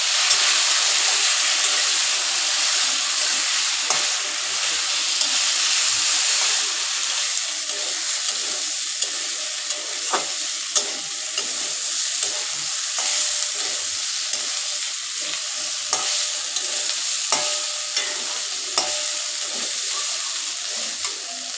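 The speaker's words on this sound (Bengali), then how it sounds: "এবার ডুমুরগুলো দিয়ে ভালো করে নাড়িয়ে নিব। এগুলো একসঙ্গে ভালো করে কষিয়ে" Figs stirred and sautéed in a pan for a Bengali dumur curry, a loud bright sizzle that runs continuously with repeated spatula scrapes and taps on the pan, close up and with no voices.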